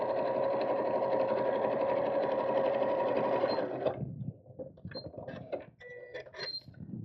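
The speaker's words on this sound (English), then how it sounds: "Again, open this out and sew straight down." A sewing machine stitches a straight seam through fabric for a purse organiser craft bag, a steady close whirring run of about four seconds, then stops and gives way to soft handling clicks and rustles.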